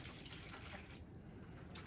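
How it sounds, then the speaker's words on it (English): Water pours into a pot of Leca clay pebbles, a faint, steady trickling rush that continues throughout with no talk. "I'm just gonna add water to this, not too much"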